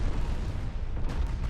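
Naval guns fire in the warship game Ultimate Admiral: Dreadnoughts, making a dense, continuous low rumble of overlapping booms with a few sharper cracks near the end.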